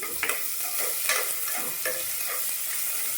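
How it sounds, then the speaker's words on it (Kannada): Garlic and ginger frying in a pan for a water gourd sambar, heard as a steady close sizzle broken by repeated scraping stir strokes about once a second. "ಈಗ ಹಾಕ್ತಾಯಿದ್ದೀನಿ ನೋಡಿ. ಇದು ಎಲ್ಲ ಚೆನ್ನಾಗಿ ಫ್ರೈ ಆಗಲಿ."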